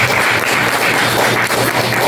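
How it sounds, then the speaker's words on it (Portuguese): A live audience claps for a professor at the close of a talk with a writer during the Efemérides Amazônicas 2023 event. Loud, dense, continuous applause carries on steadily throughout the short stretch. "Uma salva de palmas para o professor"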